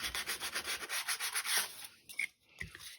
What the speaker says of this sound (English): This is 320 grit sandpaper.